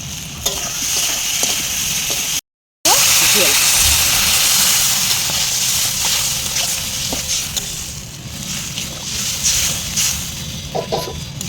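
Fried potato and eggplant pieces go into hot spiced oil for a Bengali fish curry and are stirred, a steady close sizzle with scraping and clatter throughout, briefly cut out near the start, with some talk over it.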